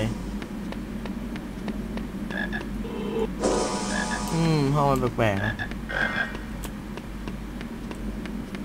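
A chocolate frog croaks in a Harry Potter game, a wobbly, descending croak rising out of steady game background noise midway through while someone talks quietly.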